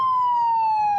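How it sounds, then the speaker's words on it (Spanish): A siren wails with a steady, slightly falling tone, loud and sustained for the whole moment, with no voices, at Ecuador's National Court of Justice during a transfer of defendants. "Las sirenas para el traslado de los procesados,"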